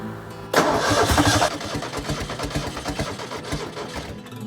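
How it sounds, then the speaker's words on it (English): A Ford Ranger engine cranks and catches abruptly, then runs roughly with irregular popping back through the intake and sputtering, loud and close, settling into an uneven idle. "it is popping back through the intake"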